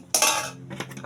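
A metal spoon scrapes and taps against a pan while spreading a sticky glutinous rice mixture, one sharp clatter followed by a few lighter scraping clinks, close and brief.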